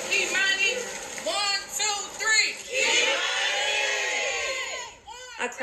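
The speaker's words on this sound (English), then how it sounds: "A crowd gathered at the abandoned house on Miami and Wilmot, chanting the name of a girl who will never be forgotten." A crowd gathered outside an abandoned house shouting a girl's name in unison, many overlapping voices rising in repeated loud calls and then tapering off.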